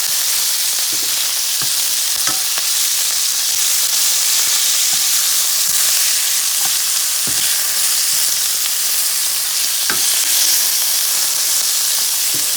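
Rabbit pieces for a Valencian paella fry in a pan, giving a steady loud sizzle and hiss with occasional pops and stirring scrapes throughout, no voices.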